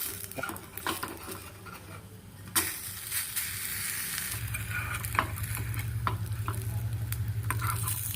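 Batter sizzles steadily in a thick-bottomed iluppu chatti pan while making a Tamil tiffin dish, a continuous close frying hiss with occasional clinks of a ladle or utensil against the pan and no talking.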